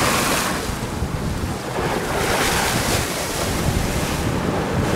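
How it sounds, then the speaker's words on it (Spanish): Heavy surf keeps breaking on a beach, a loud continuous roar of waves with wind buffeting the microphone throughout; a voice briefly speaks over it. "Porque hay oleaje hoy, chicos."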